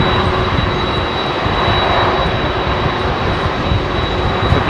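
A jet airliner's engine at London Heathrow runs in a loud, steady roar with a thin high whine held above it, continuous and close, without speech.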